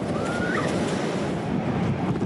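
Storm surf pounds Cottesloe Beach under strong wind, a dense continuous roar of breaking waves with gusts buffeting the microphone, loud and unbroken with no voices.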